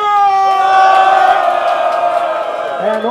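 Audience at a Brazilian rap battle, the Batalha do Tanque final, cheering and shouting together in a loud, sustained crowd roar with raised voices and whoops rising and holding throughout.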